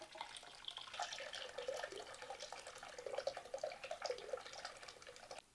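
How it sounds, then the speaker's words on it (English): Liquid deer tallow being poured through several layers of cheesecloth, a steady close trickle and splash with small drips, continuous throughout with no talking. "we're going to just pour it through a few layers of cheesecloth and then let it settle out"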